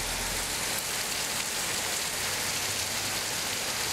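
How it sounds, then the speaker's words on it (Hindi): Heavy rain pours down in Mecca as a dense, even hiss of countless drops striking surfaces, loud and unbroken throughout with no voices over it. "मक्का में फिर बारिश हो रही है, देखिए बहुत ही खतरनाक बारिश है"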